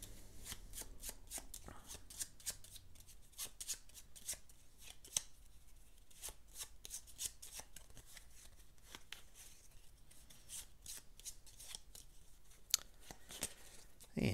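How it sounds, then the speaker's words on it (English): Deck of game cards for the board game Glass Road being shuffled, a run of quick papery riffles and flicks close by, steady throughout with brief louder snaps, a voice faintly under it. "All right, so shuffle these up."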